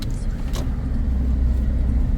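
A truck engine strains and labours with a loud, steady low rumble that holds throughout, on a road trip in Peru heading to the airport.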